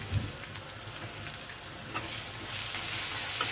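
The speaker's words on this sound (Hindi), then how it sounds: "फ्राई कर दें" Ginger garlic paste fries in a pan for a haryali chicken dish, a steady soft sizzle with faint crackles that grows louder and brighter toward the end, no voices.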